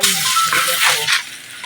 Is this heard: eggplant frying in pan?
yes